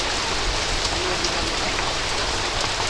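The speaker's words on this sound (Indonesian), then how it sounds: "kita mau pulang tapi keburu kepegat hujan nih" Steady, dense rain falls in a durian garden, a continuous even hiss of drops on the surrounding surfaces with no pauses.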